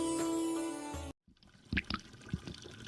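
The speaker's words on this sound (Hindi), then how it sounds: "नल से पानी टपक रहा है भाई" Water drips and trickles from a household tap, sparse irregular drops plinking close by after a brief silence that follows a tonal musical sting.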